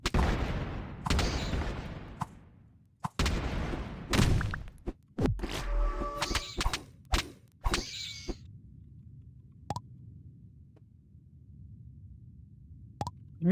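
Explosions go off in the video game Keplerth as a series of sharp, punchy bursts and thuds, some clustered, fading into a low ambient rumble between blasts.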